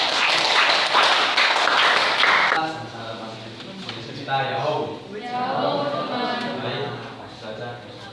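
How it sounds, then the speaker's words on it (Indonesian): A classroom group in a school gets a round of clapping, dense and bright at first, then thinning into scattered claps while voices talk over the tail. "silakan tepuk tangan dulu untuk kelompok"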